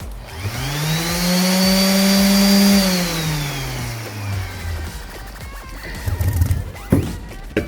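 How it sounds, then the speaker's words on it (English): A shop vac spins up with a rising whine that swells, holds, then slowly winds down, tied to a power sander running, loud and close; clattering shop noises follow at the end. "when I pull the trigger on my sander, my shop vac turns on"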